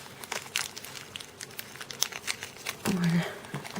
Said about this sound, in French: Je vais essayer de vous ouvrir ça. Hop, je vais déchirer de toute façon.